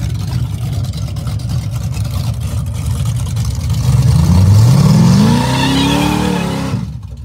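The Hulk car's engine revving loudly at a race against a Corvette, a rough rumbling idle that climbs in pitch as it accelerates, holds, then cuts off abruptly.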